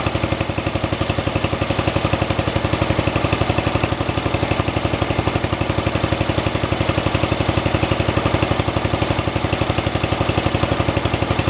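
A Kohler K301 engine on a 1973 112 tractor idles steadily after a valve adjustment, a loud, close, even chugging pulse held without a break and with no talk.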